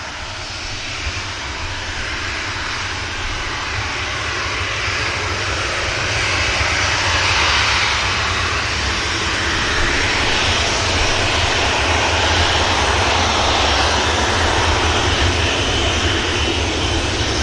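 Steady, loud roar of a jet airliner taxiing at Manchester Airport, a continuous broadband engine drone that swells slightly midway and holds close and constant with no voices.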